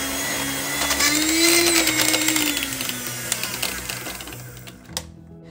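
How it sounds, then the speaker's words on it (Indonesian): A big electric stand mixer beats a small amount of lidah kucing cookie batter with a loud, steady motor whine that rises slightly and then fades before cutting off near the end, with clattering under the hum and no speech. "Makanya saya pindahkan ke saya punya mixer besar"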